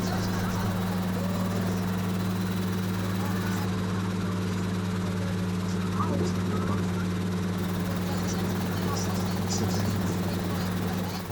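A helicopter turns into the wind to land on a first test flight, its steady low rotor and engine drone running continuously under a voice.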